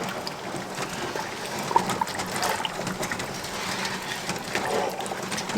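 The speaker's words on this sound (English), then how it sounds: "Stir in all that sugar." A spoon stirs sugar into pear juice in a pot to make jelly, giving a continuous wet swishing and sloshing with small clinks, close and steady, with no talking.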